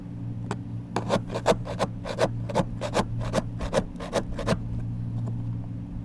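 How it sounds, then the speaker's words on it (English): A putty knife scrapes sealant off an RV gray water tank in a series of short, rasping strokes, about a dozen close scrapes over a low steady hum. "we're going to just take our putty knife and just start working the dyke free"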